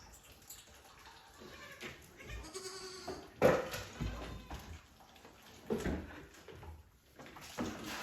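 Goats in a barn bleat several times after feeding, a loud cry mid-way and scattered calls around it over quiet barn background noise.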